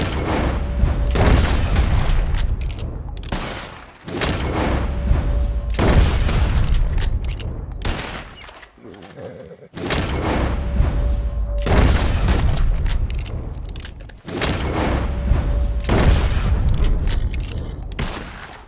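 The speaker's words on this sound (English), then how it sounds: "As soon as you see him, start shooting." Gunshots aimed at birds in Red Dead Redemption come in four loud clusters of booming, crackling shots, each about three seconds long, separated by brief quieter gaps.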